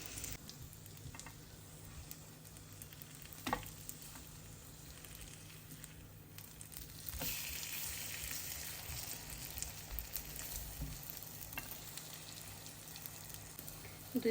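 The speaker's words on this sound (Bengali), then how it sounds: "লাস্টের যে দুই পিস সে দুই পিস ভেজে নিচ্ছি" Pieces of egg-dipped bread toast fry in oil in a pan, a steady soft sizzle with occasional pops and crackles, growing denser and louder partway through.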